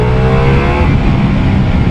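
A Ducati Multistrada V4S motorcycle engine revs hard and close, its loud, gritty roar climbing in pitch before settling into a steady, powerful drone.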